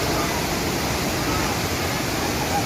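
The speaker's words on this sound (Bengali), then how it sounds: "বৃষ্টির মধ্যে পাহাড়ি ঝর্ণা আরও তেজি থেকে আরও জোরে জোরে ওপর থেকে নিচে নামছে।" A mountain waterfall at Kanchenjunga Falls pours down hard in the rain, making a steady, dense roar of rushing water that fills the whole moment without a break.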